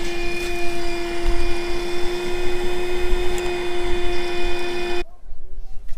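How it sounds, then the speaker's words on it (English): A shop vac runs steadily with a strong whining motor tone over a broad rumble, close and loud for about five seconds, then cuts off abruptly. "If that don't work, we got another shop vac to try."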